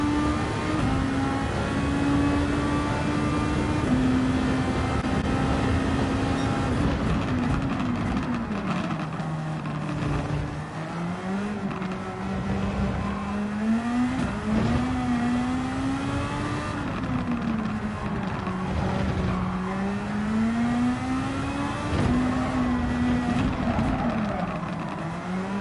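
A Formula 2 race car engine in Gran Turismo 7 screams at high revs, its pitch rising and falling steadily through gear changes and braking over a sustained, close drone.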